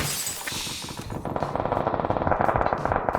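Rapid automatic gunfire in PUBG, a dense burst of machine-gun shots over a loud wash of game noise with other shooting and crackling explosions, continuous throughout without speech.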